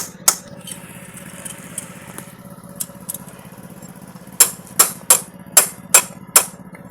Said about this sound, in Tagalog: Martilyo, saka yung socket.